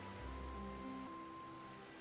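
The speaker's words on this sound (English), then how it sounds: "Why is it raining all of a sudden?" Steady rain falls in the Genshin Impact video game, a soft continuous hiss of rainfall with a faint low tone underneath and no speech.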